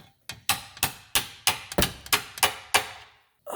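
Nine sharp metallic hammer whacks strike a lower control arm bolt on a 2010 Nissan Rogue, landing close and loud in a quick, slightly uneven rhythm before a brief pause and one more hit.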